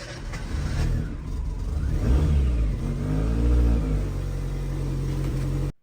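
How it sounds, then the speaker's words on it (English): A hatchback car's engine idles and revs repeatedly during a mechanical inspection, loud close rumble swelling and falling in several throttle blips before cutting off abruptly. "now I'm starting this car so that I can check everything is working properly or not."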